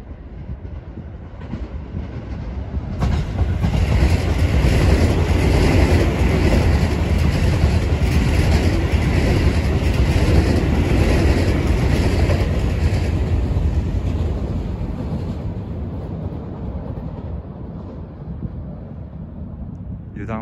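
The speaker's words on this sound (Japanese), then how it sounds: "橋本行きの区間急行がこの左側の通過線を走っていきました" A Keio Line section express bound for Hashimoto passes through Hachimanyama Station on the outer through track, a loud sustained rumble and rail roar lasting most of the clip with a high steady whine, fading slowly at the end.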